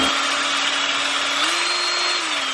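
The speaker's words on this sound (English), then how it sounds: "what I'm doing is just drilling a hole right here for the big bolt to bolt down the battery box" A power drill whirs continuously at high speed, boring a hole for a big bolt to hold down a battery box in an R34 Skyline, its pitch rising slightly midway as it bites in, close and loud with no talk.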